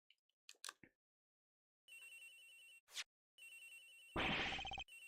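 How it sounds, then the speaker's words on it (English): An electronic phone ring in the Miles Edgeworth Investigations video game, Agent Hick's phone, trilling in repeated bursts between brief gaps, ending in a loud buzzy blast, with no talk. "Agent Hick's phone is ringing from somewhere, sir."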